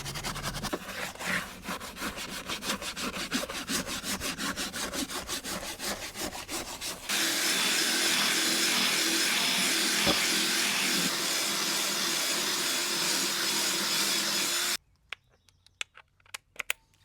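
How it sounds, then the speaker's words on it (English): A drill with a brush attachment scrubbing the door sills of a Mercedes van, first a rapid rhythmic scrubbing rasp, then a steady loud whirring drone that cuts off abruptly, followed by a few faint clicks. "for that extra kick, I pull out my drill with a special brush attachment"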